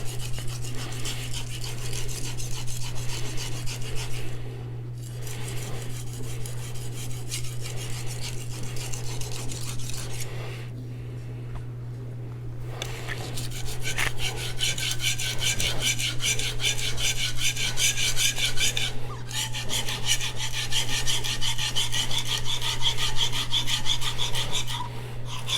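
A knife blade scrapes in steady back-and-forth strokes across a fresh, unused Arkansas natural sharpening stone, close and fairly soft, with two brief pauses and a low constant hum underneath.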